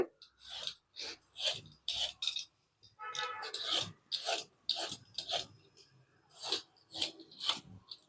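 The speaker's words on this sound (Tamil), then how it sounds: "இது வந்து தோலை ரேஸாக சீவி எடுத்துக்கலாம்" Ridge gourd skin being peeled off in thin strips, a steady run of short dry rasping scrapes repeating close up, with no talk over it.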